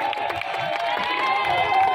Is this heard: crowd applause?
yes